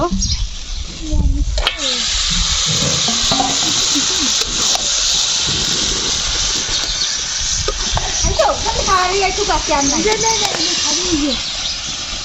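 Chicken pieces dropped into a hot pan of chili-spiced masala for a turnip chicken curry, giving a loud steady sizzling hiss that runs throughout while someone talks over it.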